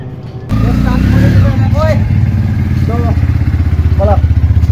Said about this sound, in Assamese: বাইকে দি আমি বৰ্তমান গৈ আছো